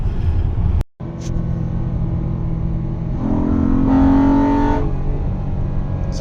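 A Honda Odyssey minivan's V6 engine revs hard toward VTEC, heard from inside the cabin. The drone rises in pitch, holds loud, then drops back to a steady hum.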